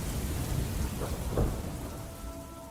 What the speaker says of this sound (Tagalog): bigla na lang bubuhos ang malakas na ulan habang nasa gitna kami ng daan